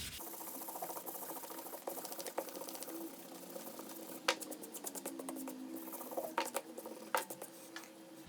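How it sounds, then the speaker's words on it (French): An eraser rubs out pencil construction lines on paper in quick, faint, papery scrubbing strokes, with short bursts of brisk rubbing over a quiet background. "on peut gommer notre trait de construction"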